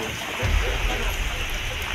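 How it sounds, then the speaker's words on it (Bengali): Rain falls during Cyclone Remal flooding in a waterlogged town in southern Bangladesh, making a steady, dense outdoor hiss for a couple of seconds. "বৃষ্টি কিন্তু এখন হচ্ছে।"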